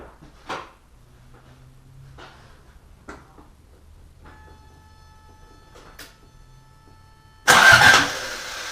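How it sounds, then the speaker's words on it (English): A Toyota Corolla engine, just fitted with a new ground wire, cranks over after a few faint clicks and knocks, then catches abruptly and starts with a loud, close burst that settles into a steady idle. "Let's see if it cranks over."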